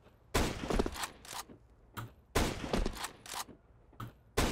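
Gunfire in Counter-Strike 2, fired during a jump: loud sharp shots arrive in irregular bursts, each a hard crack with a short tail, separated by near-silent gaps.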